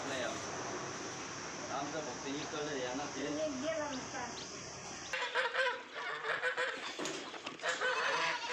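Several village chickens squawk and cluck excitedly over a steady background hum, with people talking in the first half and sharper flapping and calls afterward.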